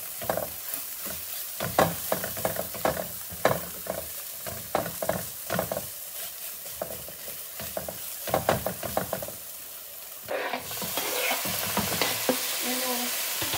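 Four garlic cloves fry and sizzle in a pan while being stirred, with a steady crackling hiss and repeated scraping strokes, close and moderately loud, with no talking.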